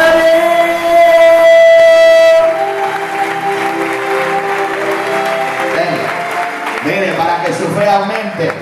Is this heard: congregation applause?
yes